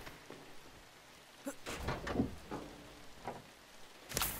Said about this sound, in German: Achso, das sind die Regentropfen.